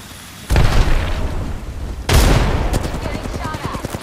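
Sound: grenade explosion and gunfire in video game Apex Legends

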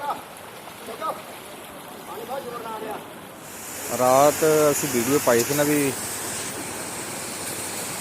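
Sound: floodwater flowing

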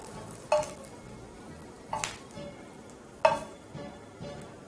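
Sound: knife chopping cooked bacon on a board

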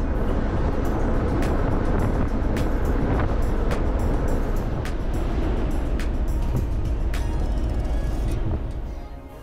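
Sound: wind on ferry deck

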